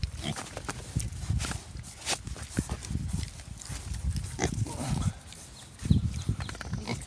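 Pigs grunt and snuffle close by on a farm, low rough noises scattered throughout, mixed with footsteps, while a person speaks over them.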